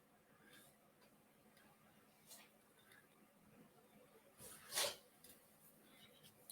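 A single short, sharp sneeze bursts out near the end, loud against a quiet room with faint ticking and rustling around it.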